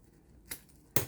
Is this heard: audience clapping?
no